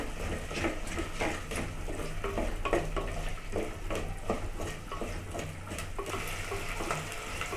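About fifteen garlic cloves sautéing in a pan with onions for a taro root kara kuzhambu, giving a soft continuous sizzle with a low hum under it and light stirring scrapes throughout, close by and with no voices.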